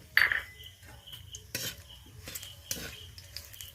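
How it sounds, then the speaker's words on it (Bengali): A utensil stirs a tempering of whole spices frying in a pan: a dried red chilli, four or five cardamom pods, two cinnamon pieces, two cloves and two peppercorns. Three or four brief metallic scrapes and clinks stand out over a faint sizzle. "হালকা করে একটু নেড়ে নিচ্ছি"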